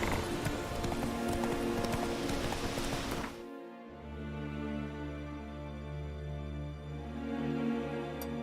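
Roach, Geralt's horse in The Witcher, gallops with steady clip-clop hoofbeats under rain, then slows to a quieter trot as a lower ambient hum takes over.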